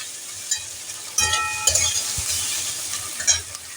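Spices with dried chili powder stirred in a pan over a low flame: soft steady sizzle broken by a few sharp scraping stir strokes and light metallic clinks, close and unaccompanied by speech.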